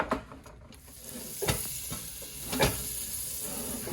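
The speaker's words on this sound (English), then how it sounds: "So it's sizzling hot now." Beef sizzles steadily in a hot pan on high heat, a continuous frying hiss broken by a few light clinks of a utensil against the pan.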